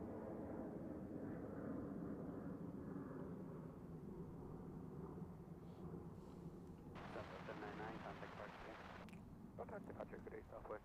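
A Southwest airliner takes off from Las Vegas airport, heard as a distant, continuous low engine roar that holds steady while a person talks quietly over it partway through.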